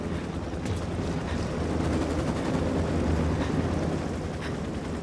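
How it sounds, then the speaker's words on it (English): An Apache helicopter opening fire in the video game Ghost Recon Wildlands: a continuous, dense barrage of rapid gunfire over a heavy rumble, loud and unbroken throughout. "That Apache's gonna cut loose."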